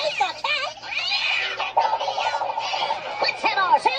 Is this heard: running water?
no